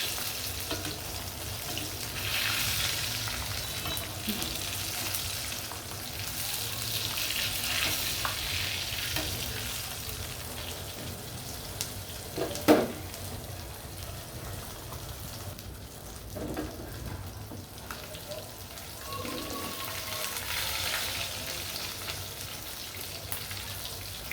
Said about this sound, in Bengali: আমি আঁকটু ভাজবো একদম ব্রাউন কালার করে তারপর নামাবো